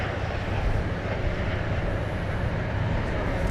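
An American Airlines jet on the ground at DFW Airport gives off a steady, broad engine roar and rumble that stays constant throughout.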